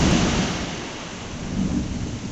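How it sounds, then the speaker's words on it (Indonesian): Loud, continuous thunderstorm rumble with rain hiss filling the whole stretch, swelling slightly near the end, with no voices over it. "geledek juga itu tadi"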